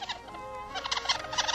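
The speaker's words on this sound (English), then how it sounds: "It's a young seagull." A young seagull gives a short series of high, squawking calls in a 1951 radio drama scene, several brief cries close by over a faint background hiss, with no talking.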